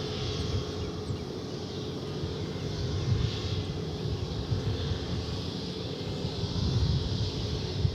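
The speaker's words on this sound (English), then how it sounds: "the next flight coming in again is the Dreamliner from Santiago de Chile" A Boeing Dreamliner arriving from Santiago de Chile at DFW Airport gives a faint, distant, steady jet rumble with a soft hiss above, slowly swelling slightly, with no talk.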